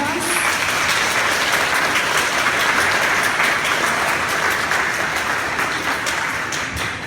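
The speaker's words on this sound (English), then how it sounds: "So can we give them a big round of applause?" A big round of applause fills the hall at a Relay for Life survivors' banquet, a loud, dense, continuous wash of clapping from a large crowd that holds steady for several seconds before easing slightly at the end.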